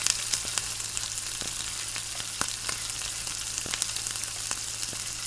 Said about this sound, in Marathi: वेलची, मसाला वेलची अशा सर्व मसाले हे छानपैकी मंद आचेवर आपण भाजून घेत आहे.